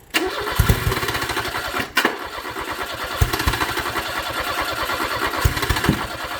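A car engine fitted with rebuilt Dellorto DHLA 45 Tri-Jet carburettors cranks, catches and settles into a loud, lumpy idle with rapid regular pulses and a few sharp blips, recorded close up.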